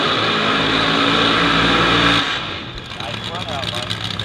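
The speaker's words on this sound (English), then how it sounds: "Listen to Godfrey's car" A loud nitro drag racing Mustang engine roars for about two seconds at the March Meet, then drops away as commentators talk over distant engine noise.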